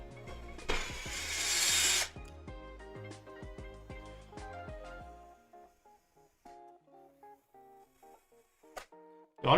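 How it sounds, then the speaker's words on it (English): A power drill bores into a 3D-printed PC case in a loud, dense burst of roughly two seconds, followed by scattered clicks, taps and light handling noises with a short sharp knock at the end. "The only problem is now basically I can't drill it in all the way."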